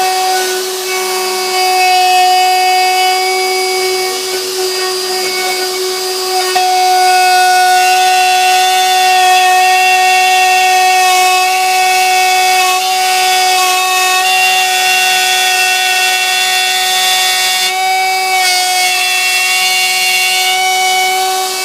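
A router fitted with a spiral upcut bit carving a sign, a steady high-pitched whine with a constant tone that holds loud and close throughout without pause.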